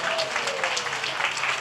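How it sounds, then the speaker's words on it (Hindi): A congregation claps and shouts to the Lord, a brief, fairly soft burst of mixed applause and raised voices. "Give the Lord a shout and a clap"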